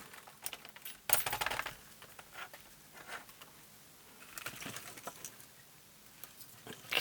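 A filthy, dirty Amstrad CPC 464 keyboard being picked up and handled, giving scattered light clicks, taps and rattles of keys with a few sharper clunks, close and fairly quiet with no talking.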